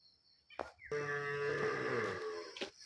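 A single cow moos in a long, loud, drawn-out call in a quiet village, close to the listener, with faint birdsong before and after.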